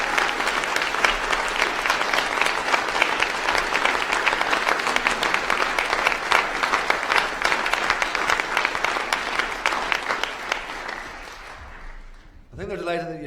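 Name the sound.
graduation ceremony audience applauding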